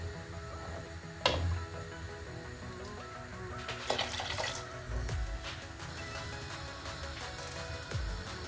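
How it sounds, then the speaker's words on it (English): Cold water runs from a tap into rice for cooking, a steady close splashing stream with a few clinks of the pot along the way. "Now we add our cold water"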